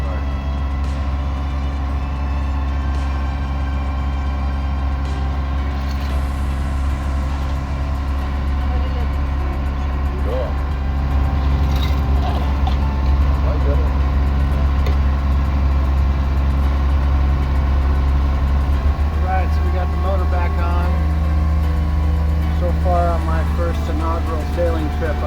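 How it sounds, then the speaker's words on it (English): Sailboat Dagny's diesel engine motoring north toward Vallejo, a steady low droning hum that runs continuously and evenly throughout, with a faint voice occasionally beneath it. "we fired up Dagny's diesel once again and headed north to Vallejo"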